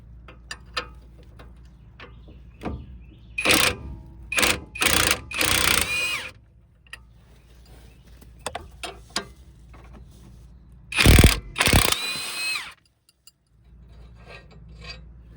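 A Hercules high torque impact wrench removing a bolt while replacing the steering stabilizer on a 1998 Dodge Ram 1500. It gives several short, loud rattling bursts in a row, then a longer pair of hammering bursts after a pause.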